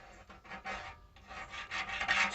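A rag wipes and scrubs the cork valve cover gasket surface on a C4 small-block Chevy engine, producing short, soft rubbing bursts in an uneven rhythm, close and quiet, with no voices.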